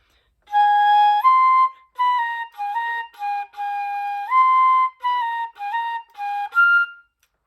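A flute plays the ending of a section, in clear separate phrases of short and held notes with brief rests between them, bright and close, with no voices.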